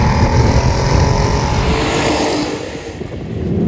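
A Volkswagen VR6 engine in an Audi TT roars loud and close with a steady, gritty growl that eases briefly near the end before building again, with no voices.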